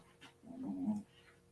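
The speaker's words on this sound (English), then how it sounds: "The dog is going wild." A dog pants and gives a brief whimper, faint and short, during an indoor birthday livestream.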